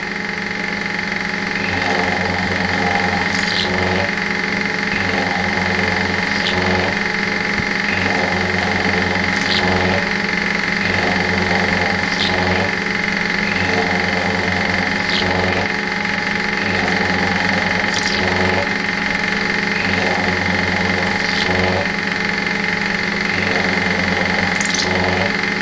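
A milling cutter slots metal in a steady, loud, continuous machining grind with a pulsing rhythmic chatter, accompanied by a constant tonal hum from the machine and periodic faint ticks, with no speech.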